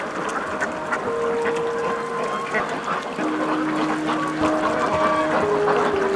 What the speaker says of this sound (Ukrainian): Це є підприємець Михайло Самсім, який вирощує качки і гуси.